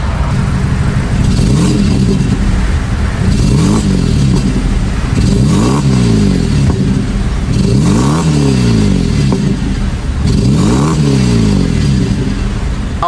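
A BMW 320i 3 Series with a 2-liter four-cylinder engine said to leak oil is revved repeatedly, loud and close, each rev climbing and falling back in a steady cycle.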